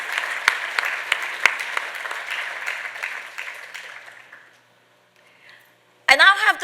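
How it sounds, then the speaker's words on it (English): An audience at an arangetram dance debut applauds two young dancers, a warm crowd of clapping that tapers away over about four seconds into near silence before a voice starts speaking over a microphone. "a big round of applause"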